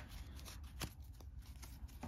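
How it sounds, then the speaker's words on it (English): A deck of playing cards from a dog-themed party card game for 2 to 5 players is shuffled up close, a quick papery riffle with a brief sharp flutter near the middle over a steady low room hum. "you take that deck and you shuffle it up"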